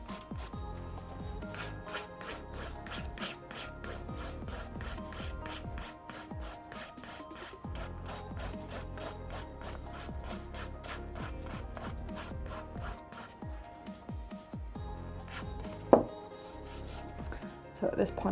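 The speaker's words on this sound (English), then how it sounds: "always filing into the middle of the nail" Hand nail file rasping across a sculpted acrylic nail in fast, steady back-and-forth strokes, close and quiet, with music playing underneath throughout.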